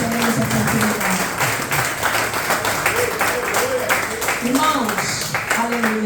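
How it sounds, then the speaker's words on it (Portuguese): A church congregation applauds during a women's worship service, steady dense clapping running throughout under a preacher's voice and scattered vocal exclamations. "Aplauda o Senhor nessa noite"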